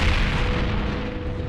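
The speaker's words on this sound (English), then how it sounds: "They brought up artillery!" Artillery fire from the Battle of Bunker Hill in an animated show about the Revolutionary War: a loud, sustained rumbling boom with dense low roar filling the moment, no voices over it.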